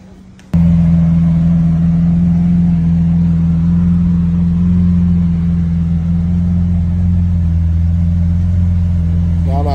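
A Lamborghini Aventador's engine starts abruptly and holds a loud, steady low-pitched drone, with a faint rising rev near the end.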